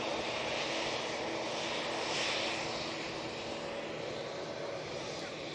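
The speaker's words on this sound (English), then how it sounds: "Jun Yao 787-9 Dreamliner now lined up, ready to go back to Shanghai" A Juneyao Boeing 787-9 Dreamliner in colourful Petals livery powers up for takeoff at Manchester Airport, bound for Shanghai, with a steady broad engine roar at moderate distance that peaks briefly midway and then eases slightly.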